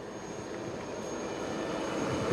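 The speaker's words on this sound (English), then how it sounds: "coming from your left are 4 Chetak helicopters in an arrowhead formation" Four Indian Navy Chetak helicopters flying in arrowhead formation at a naval operational demonstration rehearsal, a broad steady engine roar that swells slightly toward the end, heard at a distance over outdoor ambience.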